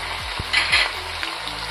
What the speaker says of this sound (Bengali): এটা একটু ভালো করে কষতে হবে, যতক্ষণ না মশলাটা তেল থেকে ছাড়ছে